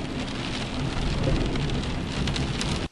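Heavy rain pours down steadily and loudly during a thunderstorm, a dense unbroken roar of rainfall with thunder rumbling low beneath it, cutting off abruptly at the end.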